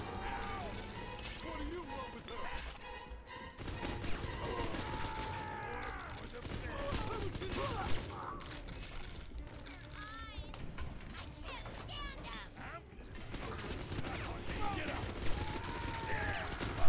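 A machine gun turret fires in Bioshock 2 amid a busy mix of mechanical clatter, rattling bursts and shattering debris, with voices speaking throughout.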